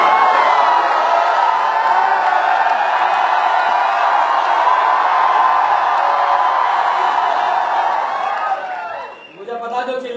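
A large live audience at a stage comedy show shouts and cheers loudly and steadily for several seconds, then the roar drops away near the end.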